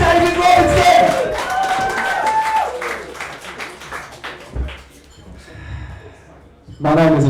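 A comedy club crowd cheers and whoops loudly with scattered clapping. The noise fades to a quieter murmur midway, then surges again near the end, with voices shouting throughout.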